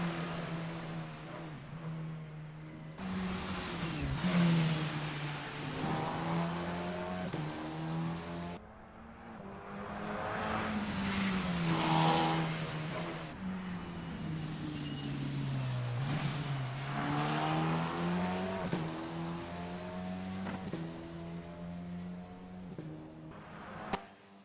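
A Formula 4 race car on its outlap at Bathurst in Assetto Corsa, engine droning steadily with rising and falling revs through gear changes, continuous and loud with no speech.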